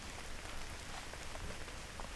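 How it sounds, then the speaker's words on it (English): Steady, faint outdoor rain falling, a dense even patter with no voices. "Hey, it's starting to rain, isn't it?"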